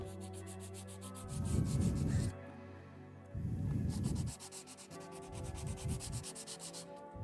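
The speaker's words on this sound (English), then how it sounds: "Sanding down my machete." A machete is sanded by hand in a few separate bursts of rough scraping strokes, quiet and close, with short pauses between each pass.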